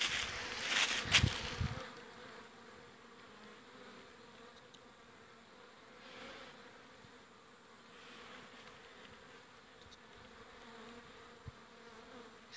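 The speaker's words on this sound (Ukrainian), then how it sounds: "Всі активно літають пчолки." Honeybees fly around in early spring, making a steady, low hum of many wings that swells and fades gently, with a louder close buzzing burst at the start as one passes near.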